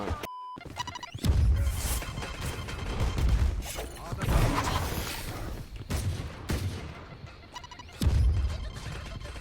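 Gunfire in Valorant on a high-ping server, with repeated loud bursts of shots and impacts coming in clusters while someone talks excitedly over them.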